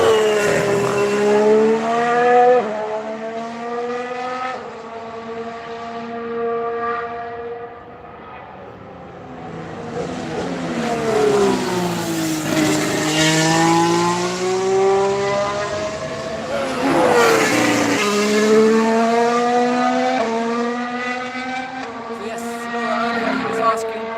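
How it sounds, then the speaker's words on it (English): A Renault Formula 1 car performs a practice start, its high-pitched engine note sweeping down and up through repeated revs and a launch. The engine is loud and close, and the pitch keeps rising and falling throughout. "we've got Renault again doing another practice start"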